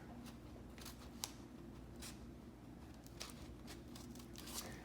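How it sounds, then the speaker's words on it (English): Scissors snip a small flap into a folded paper airplane, giving several quick, faint, crisp cuts spread irregularly over a quiet background. "take a pair of scissors and I cut a little flap in here"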